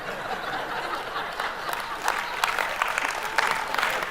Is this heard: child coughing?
no